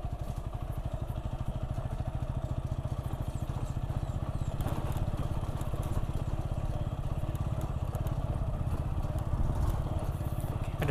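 Motorcycle engine puttering steadily throughout while riding along a village road in Grogol, Gunung Jati, Cirebon, with a close, continuous rhythmic drone and rattle and no talk.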